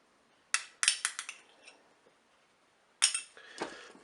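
A utensil stirring chicken blanquette with crème fraîche and mustard in a Cookeo pot, two bursts of quick metallic scraping and clinking separated by a quiet pause, close and fairly soft.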